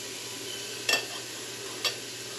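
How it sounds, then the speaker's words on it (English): About three cloves of minced garlic sizzle in oil in a pan for a homemade marinara sauce, a steady soft frying hiss broken by two brief scraping stirs. "In this case, I'm using minced garlic, about 3 cloves worth, and we're just gonna go ahead and add it to the middle."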